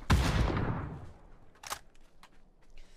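A loud close gunshot with a long decaying tail opens the stretch, followed by a sharper distant shot and faint clicks in a shooting video game, no voices present.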